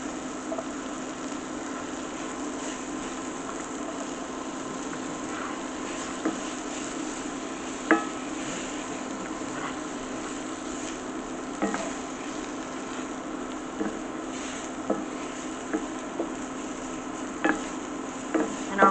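Mushrooms, celery and onions frying in a pan make a steady, moderate sizzle and hiss, broken by occasional soft clicks and taps of a utensil, close and unbroken for the whole stretch.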